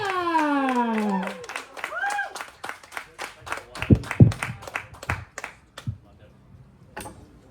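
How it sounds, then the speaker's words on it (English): A small comedy-show audience on the Gold Coast claps as the next comic comes on stage. A host's voice opens it, then scattered, uneven hand claps follow, thinning out toward the end. "round of applause for our next comic up on the stage is Aaron"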